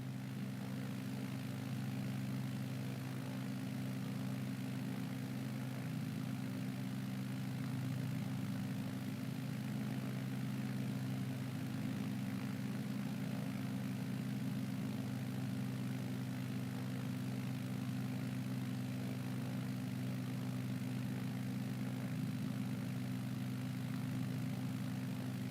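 Propeller airplane engine in Microsoft Flight Simulator 2020, a steady low droning hum at constant power, continuous and even for the whole stretch with no talking.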